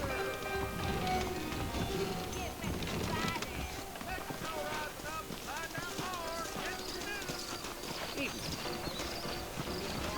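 Horse hooves clip-clop in a steady trotting rhythm on a trail in the Western video game Red Dead Redemption, close by and continuous, with voices talking over them.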